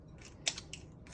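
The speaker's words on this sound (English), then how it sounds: "Just get your scissors and give this a good little nip." Kitchen scissors make a few quick, faint metallic snips as they cut the feelers off a lobster, in a quiet room.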